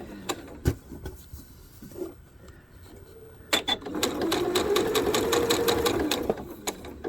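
A sewing machine runs a steady quarter-inch seam across a quilt block for half square triangles, its fast even stitching hum carrying for several seconds after a few brief starts and clicks, close and fairly loud.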